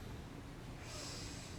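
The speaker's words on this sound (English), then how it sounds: "sniff through the other one." A single short sniff through one nostril during a neurological smell test, while the other nostril is held closed. It is a soft, breathy snort that swells briefly in the second half.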